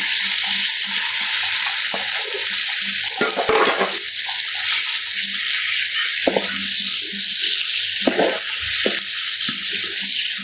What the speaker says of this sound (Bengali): পেঁয়াজটা একটু ভাজা ভাজা হয়েছে